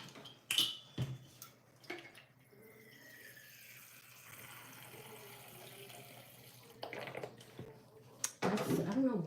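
A nail brush dipped in acrylic monomer liquid in a nail-art setting gives soft, faint liquid swishes and drips, with a few louder splashy moments near the start and end.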